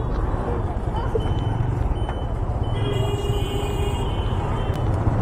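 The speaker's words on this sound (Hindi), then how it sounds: "थोड़ा सा ट्रैफिक है" Busy road traffic on a long motorcycle tour from India toward Bangladesh: a dense, constant engine and road rumble, with a vehicle's high reversing beeps sounding briefly midway.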